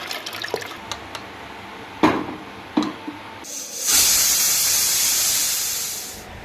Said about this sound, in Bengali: আজকে সকালে ঘুগনি বানাবো টিফিনে সেই জন্য তো এটাকে এখন ভাবছি প্রেশার কুক করে নিই